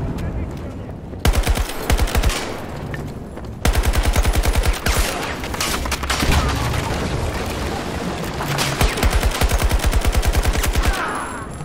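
Rapid bursts of automatic fire from the SFAR-M GL special forces assault rifle in the Battlefield 2042 video game, several loud sustained strings of shots separated by brief pauses, with background battle noise between.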